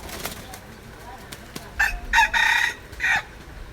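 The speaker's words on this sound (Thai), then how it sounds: "ลองฟังเด้อเสียงขัน" A Thai decoy rooster crows nearby, a few sharp clucks leading into one loud, multi-part crow with a brief pause between phrases, and no talking over it.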